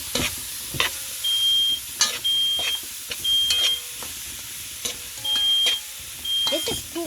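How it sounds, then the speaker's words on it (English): A kitchen fire alarm gives a repeated high-pitched beep in short regular bursts, about one per second, over faint sizzling and stirring from curry chicken cooking on a stove. "I'm going to stop that fire alarm so you can hear me."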